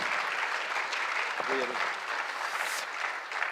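Audience at a sports conference panel applauds in a steady, moderately distant wash of clapping, with a brief voice cutting through midway.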